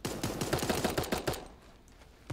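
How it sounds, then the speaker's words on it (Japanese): A rapid burst of automatic gunfire in the video game Super Animal Royale, about a dozen quick shots, then stops; a single shot follows near the end. "めっちゃ銃声してるもんね。"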